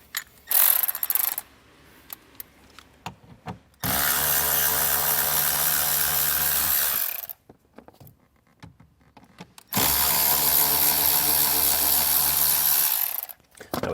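A ratchet spins out 7mm bolts from a Redarc Tow-Pro Liberty brake controller bracket on a 2020 Ram 1500, with two long, loud runs of steady rapid clicking separated by quieter pauses and a few handling knocks.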